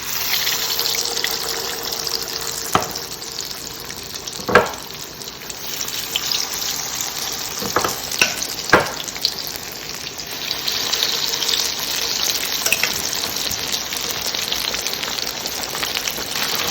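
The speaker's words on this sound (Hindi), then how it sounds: "अब इसमें चिकन डालते हैं हम 1-1 पीस करके।" Chicken drumsticks fry piece by piece in hot oil in a pan on medium-low heat, a loud continuous hissing crackle with a few sharper pops as pieces go in.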